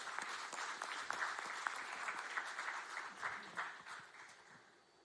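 An audience at a national startup pitch competition final gives a warm round of applause for a competing team, steady clapping that fades toward the end, heard fairly faintly.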